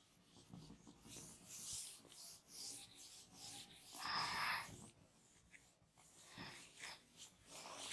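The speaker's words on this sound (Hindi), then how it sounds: "मैं इसको यहां से, इस क्वेश्चन को यहां से रब कर रही हूँ।" Rubbing a written question off a classroom board in a class 12 accounts lesson, a soft, fairly faint scrubbing that comes in several uneven strokes, strongest around the middle, with no talk over it.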